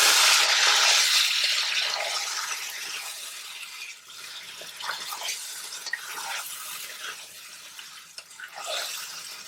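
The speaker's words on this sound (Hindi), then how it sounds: "तमाम मैरिनेटेड चिकन डालेंगे, डालकर इसको अच्छी तरह मिक्स कर लें" Marinated chicken tipped into a pan with a little hot oil and stirred: a loud, broad sizzle that fades a little and continues steadily with scraping and stirring sounds, close by.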